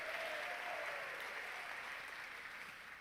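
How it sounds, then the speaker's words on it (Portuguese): Church congregation clapping in applause during a worship service, a dense steady wash of hands that fades slightly toward the end, heard alone. "dá uma salva de palmas ao Senhor"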